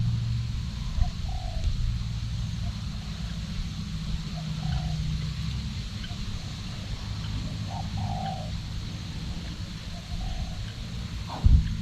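Soft, repeated spotted dove coos drift in from a distance over a steady low rumble of background noise, with a few faint chirps mixed in.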